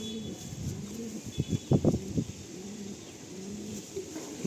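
Pigeons kept for sale at Sonarpur coo in soft, low repeated calls that swell into a brief louder burst midway, then trail off into quieter cooing with faint background hiss.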